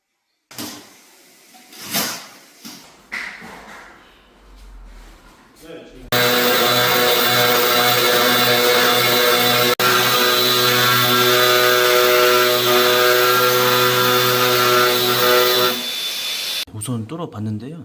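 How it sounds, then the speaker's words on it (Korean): A power drill bores into a wall with gypsum board behind it while a handrail is installed in an upscale house. Speech comes first, then a loud, steady, close drilling whine runs for about ten seconds. "우선 뚫어봤는데요. 우선은 바로 뒤에 석고가 있고 한번 더 뚫어 보겠습니다."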